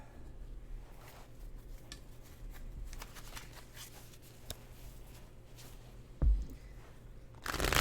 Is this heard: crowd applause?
no